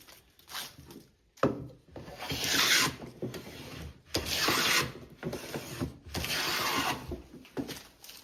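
Carriage maker's rebate plane pushed through wood, repeated rasping strokes of shavings peeling off with short pauses between passes, close and fairly quiet, with no talking.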